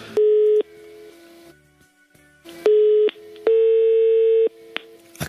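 Telephone dialing tones and a busy signal on a prank phone call: several loud, steady electronic tone bursts with short gaps, a final burst ending in a faint tone and clicks, with no one talking.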